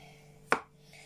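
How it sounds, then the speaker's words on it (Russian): One sharp knife chop through meat on a board as it is cut into large pieces for soup, a single close thud standing out against quiet room noise. "Видите, я режу большими такими кусочками порционными."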